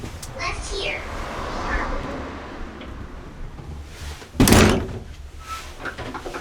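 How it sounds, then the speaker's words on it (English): A door in an old inn is shut with one loud, close thud partway through, while people speak in hushed voices before it and a faint whistle-like tone sounds near the start. "Alright, shut that door."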